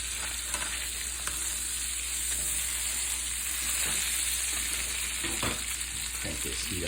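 A flounder fillet pan frying in a hot skillet, a steady close sizzle with occasional spatter and scraping from basting and handling.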